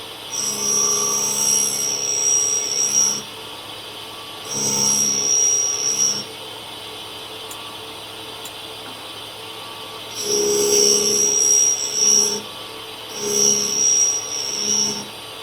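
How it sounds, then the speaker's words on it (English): Cutter grinding wheel on a Clarkson tool and cutter grinder lightly engaging the workpiece and taking little material off, four bursts of high whining grind of a few seconds each, separated by quieter running of the machine, with no speech. "So as you can hear, it's engaging the wheel a bit, but it's just not taking a lot of material off."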